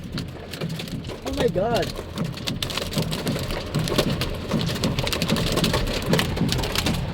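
Heavy rain hammers down on a vehicle in a severe storm, a dense steady roar of drops close around, while someone speaks in alarm over it.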